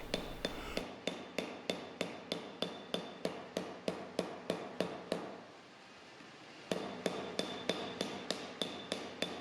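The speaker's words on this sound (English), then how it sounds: "the surface of the mold is tapped with a smoothing hammer" A flat smoothing hammer taps sheet metal laid over a 3D printed forming mold in a steady, rapid series of sharp, close strikes, pausing briefly before the even rhythm resumes.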